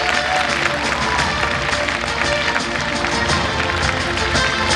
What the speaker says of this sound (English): Parents, please give the round of applause for all the winners.